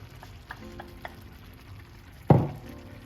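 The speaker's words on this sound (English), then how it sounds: "Add in my mushrooms and onion mixture" A mushroom and onion mixture is added and stirred into a creamy, porridge-like pot, giving a soft low bubbling hiss with a few light taps and one louder thud and scrape near the end, close by.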